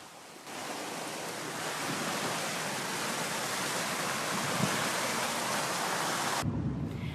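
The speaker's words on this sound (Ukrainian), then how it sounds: "Центральні вулиці міста перетворились на бурхливі річки." Floodwater rushes through the flooded central streets of Chernivtsi in a steady, loud broadband roar that holds unbroken for about six seconds, then drops off abruptly near the end.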